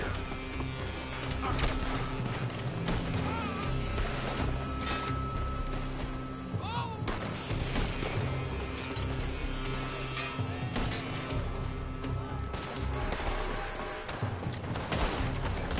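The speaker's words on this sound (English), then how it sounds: "They're shooting from that building!" Gunfire in the Red Dead Redemption II video game, coming from a building, rattles continuously for the whole stretch. It is dense and fairly loud, mixed with crashes and other game sounds.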